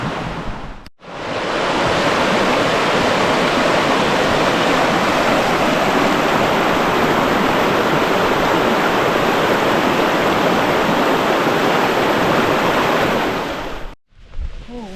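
A swollen stream rushes beside a wet hiking trail on Mt. Edziza, a loud, steady roar of water heard up close for about thirteen seconds, cut off sharply at both ends.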